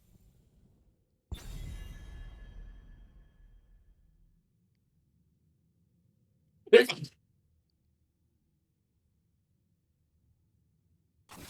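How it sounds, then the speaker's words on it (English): A single person's sneeze during a Heroes of the Storm esports broadcast: one sharp, close burst that trails off briefly, set in near silence and followed by a short vocal sound a few seconds later. "I need to sneeze."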